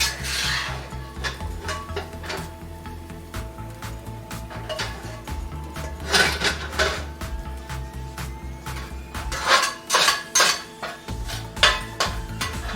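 Scrambled eggs are scooped from a pan onto a plate, with repeated scraping and clinking of a utensil against cookware in uneven bursts, close and fairly loud, with no voices.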